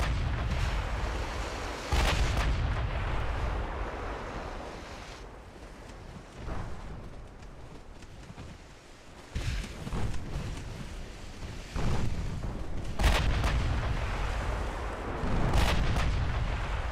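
Warship secondary guns fire in a naval battle in Ultimate Admiral Dreadnoughts, heavy booming blasts at irregular intervals over a constant rumbling wash of sea and wind, with no voices.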